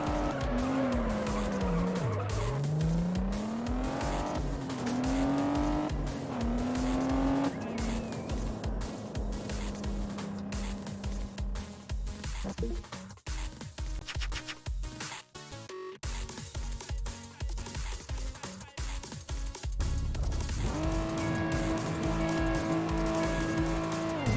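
Race car engines in a video game race rev and shift through gears, with tires squealing and skidding, loud and close, with a car passing by and the engine pitch rising and falling over a long stretch.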